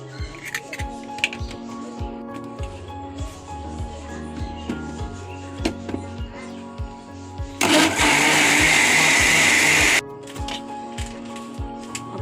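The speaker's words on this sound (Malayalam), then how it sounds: "അരഞ്ഞേതുണ്ടായപ്പോൾ നമുക്കൊരു മുട്ടയും കൂടി അതിൽ കൂട്ടി അടിക്കാം." A mixer grinder blends rice batter with an egg added, roaring in one loud, steady whir of about two seconds that starts and stops abruptly, set between quieter kitchen clatter.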